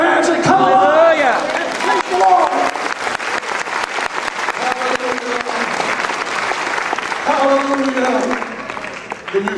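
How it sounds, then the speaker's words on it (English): A church congregation at a First Assembly of God service in Honolulu claps hands steadily and loudly in rhythm throughout, with singing and raised voices carrying over the clapping. "Oh, clap your hands and come on."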